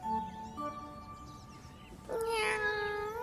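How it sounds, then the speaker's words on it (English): A cartoon cat in a toddler learning show gives one drawn-out meow near the end, heard clearly over soft background tones. "Cats say meow."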